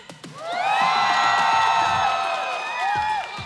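A crowd cheers and whoops loudly for a few seconds at an esports grand final, a dense swell of voices that rises quickly and tapers near the end.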